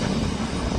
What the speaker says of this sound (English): Gulf Air, Dreamliner.